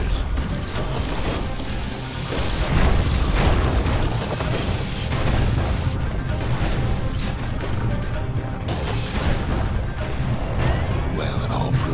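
In the video game Bastion, Weeping Nelly is smashed to splinters. Dense crashing, booming destruction and mechanical clatter churn loudly and continuously without pause.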